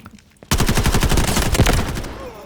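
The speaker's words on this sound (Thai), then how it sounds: "เรายิงกาดไปเยอะนะ" Automatic gunfire in the shooter game Delta Force: after a quiet moment, a close, loud burst of rapid shots rattles for about a second and a half, then tails off into echoing decay.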